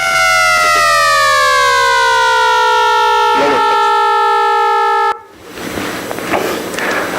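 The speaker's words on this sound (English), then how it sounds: "Something flies towards you quickly, the sound wave gets compressed, goes higher pitch." A siren or horn with a strong Doppler shift, its steady harmonic tone sliding gradually lower in pitch as the source passes, loud and alone, ending abruptly in broadband rumble and noise.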